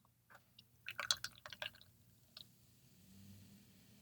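Griffin Claw Screamin' Pumpkin ale poured from a can into a glass, quiet splashing and fizzing with a few sharp drips and clicks up front, then a soft steady trickle, close and faint.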